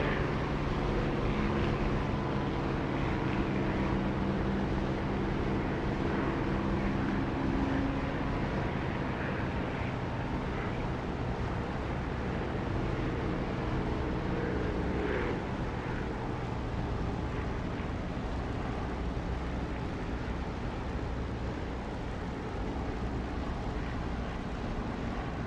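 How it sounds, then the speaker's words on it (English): An aircraft engine drones steadily near a runway in a DCS or War Thunder flight simulator, a continuous loud hum with some wind-like noise that swells slightly in volume. "as reflected sound comes back up at me and makes the engine sound louder"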